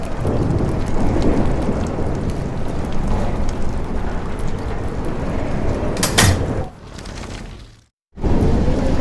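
A heavy thunderstorm in the Life Is Strange video game: steady loud rain pours down with rumbling thunder, a sharp crack of thunder near the end, then a brief drop to near silence before the downpour returns.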